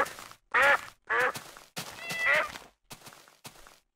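Cat meowing in a video game: a run of short, bright meows in quick bursts, close and clear with brief silences between them and no talking.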